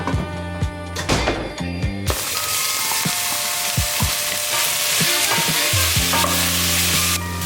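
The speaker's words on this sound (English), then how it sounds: "we're gonna let this simmer for maybe like 15-20 minutes" A pot of cabbage-based food simmering steadily, with a continuous bubbling sizzle and occasional stirring knocks and scrapes, fairly close and loud throughout, with no talking.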